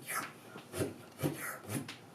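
A beatboxer imitates reverse record scratches with the mouth, producing a quiet, breathy run of rising swipes in a steady rhythm, about four or five strokes in two seconds.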